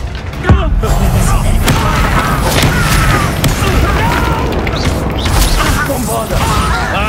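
Bombarda explosion spells in Hogwarts Legacy combat, a series of loud booming blasts and crashes amid continuous battle noise, with a voice calling out over the top.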